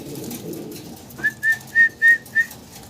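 Fancy pigeons at a Bangladeshi pigeon seller give a run of five short, clear, tonal coos in steady rhythm, close and fairly loud, after a stretch of low background rumble.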